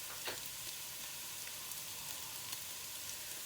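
Okra sizzles and fries in a pan for an okra and tomato curry, a steady soft crackle with a few sharper pops and stirring sounds, fairly quiet and with no talking.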